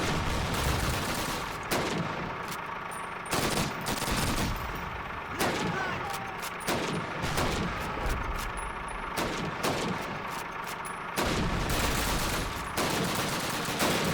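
Rapid bursts of MP40 submachine gun fire and bolt-action rifle shots in the Call of Duty: United Offensive game, dense repeated volleys filling the whole stretch with only brief gaps.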